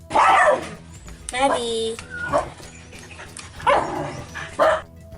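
Several stray dogs bark and yip in short bursts at close range, with a whimpering note between, mixed with a voice speaking briefly.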